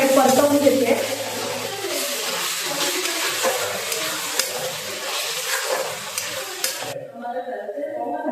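Vegetables stir-fried with tomato sauce in a pan for Chinese noodles, giving a steady busy sizzle with scraping stirs throughout, which cuts off sharply near the end.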